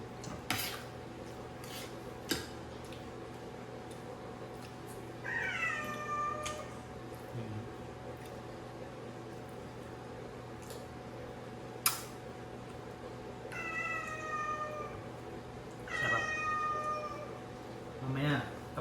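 A cat meows several times at intervals over a steady background hum, with a few sharp clinks and taps of dishes in between.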